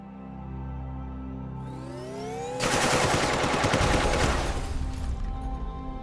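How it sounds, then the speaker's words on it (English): Gun in The Turing Test video game firing as a rapid automatic burst that starts after a rising whine, a loud dense stream of shots lasting a few seconds before it cuts off. "Ah, the gun again."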